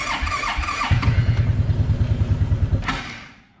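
Suzuki QuadRunner 250 ATV engine cold-starting at -13F with the choke on, cranking in a steady rapid chug of pulses before catching and then fading off, heard up close with no talk.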